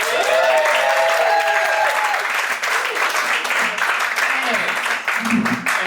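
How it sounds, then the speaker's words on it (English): An audience at a stand-up comedy show applauds a comedian with steady, dense clapping that stays loud throughout, mixed with a few cheers and voices in the crowd. "Big round of applause for Neko White."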